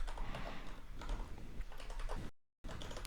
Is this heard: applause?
no